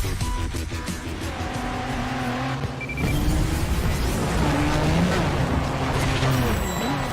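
Race cars in the video game Forza Street roar with rising and falling engine pitches and occasional tire squeal, loud and continuous, with brief voice sounds mixed in.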